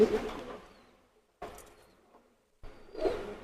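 Teddy pigeons coo in three separate close, soft bursts with short quiet gaps between them.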